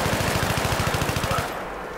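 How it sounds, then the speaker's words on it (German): Rapid automatic gunfire sprayed from the hip in Battlefield 3, a dense, steady burst of evenly spaced shots that runs loud and close for about a second and a half before cutting off. "Das war erstmal aus der Hüfte geschossen."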